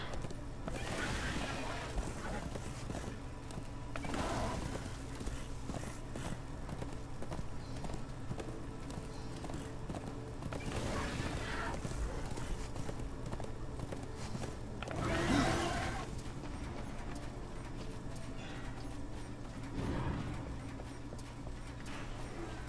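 Horse hooves clip-clopping in Darksiders 2, a steady repeated trotting rhythm under continuous game music and ambience, with a few louder thumps standing out, while a person talks over it.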